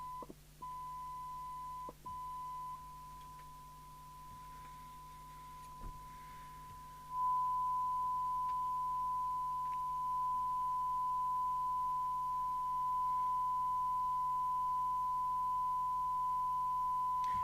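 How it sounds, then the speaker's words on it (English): A steady, pure test tone from an Audioline PT340 UK CB27/81 mobile CB radio set to an S9 signal level during servicing. It holds unbroken and grows louder partway through, with faint clicks and a low hum underneath. "And we'll put an S9 signal on."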